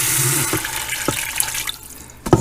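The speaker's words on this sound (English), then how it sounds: "I'm going to add 2 cups of water now." Two cups of water pour into a pressure cooker over onions, garlic and bacon fat, giving a close, steady splashing rush that thins out toward the end and finishes with a sharp clank.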